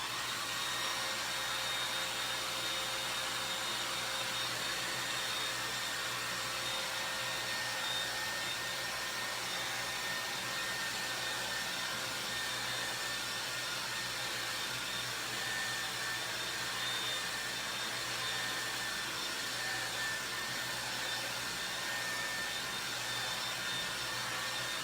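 A hair dryer blowing on matte paint, a steady whooshing drone with a faint motor hum, constant and close for the whole stretch, no talk.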